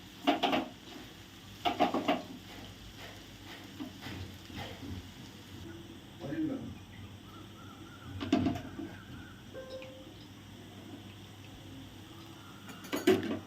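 Chicken chow mein noodles stirred in a pan, with intermittent scraping and clattering strokes of a utensil against the metal, a few louder bursts between quieter stretches of low kitchen background.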